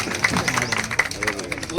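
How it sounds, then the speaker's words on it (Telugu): Audience clapping at a felicitation during a ward public meeting, a brief patter of scattered hand claps blending into crowd chatter and a nearby voice. "చప్పట్లు కొట్టండి"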